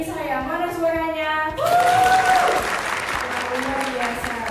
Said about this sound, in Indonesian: Beri tepuk tangan yang paling meriah